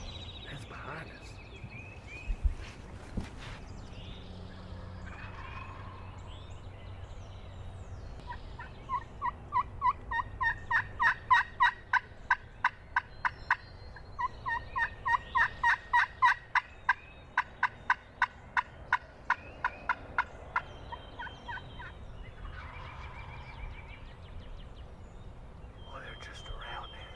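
Wild turkeys gobble in repeated rapid bursts from a moderate distance outdoors, with several rattling calls running in a row through the middle of the stretch and a soft breathy voice or whisper at the start.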